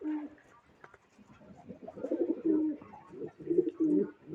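Pigeons, a newly bought white female with a homebred male, coo close by in a soft, throaty, repeated pattern that swells louder toward the end, with some faint background noise.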